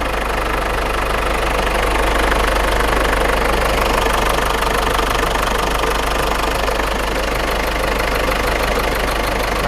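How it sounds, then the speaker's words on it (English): A car engine with a head gasket problem idles steadily and loudly nearby, a continuous knocking rumble with no voices over it. "Alright, guys, we got the car running."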